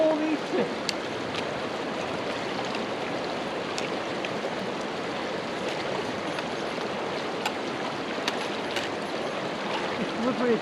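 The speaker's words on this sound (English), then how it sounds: "let me get across this creek" Water of a creek swirls and splashes steadily as someone wades across it, a continuous broadband rush heard up close with occasional small splashes and knocks, no talk.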